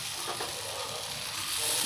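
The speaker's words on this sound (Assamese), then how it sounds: "এয়া ৰিফাইনখিনি চাৰিওকাষে বিয়পাই ল'লোঁ আৰু এয়া একেটা পিঠাগুড়িৰ মিশ্ৰণটো ইয়াত দি দিছোঁ" Rice flour batter for Assamese pani pitha sizzles in refined oil spread across a pan, a steady soft hiss and crackle of frying that holds evenly throughout, with no voices.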